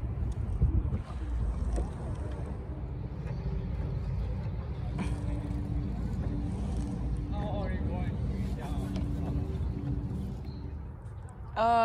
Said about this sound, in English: So we are riding kayak right now.